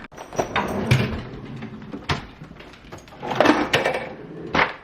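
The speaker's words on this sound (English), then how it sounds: "I will open the ice drawer and he'll come running." A freezer ice drawer in a home kitchen is pulled open, giving a series of sliding scrapes, clunks and rattling ice over several seconds, close and fairly loud, without speech.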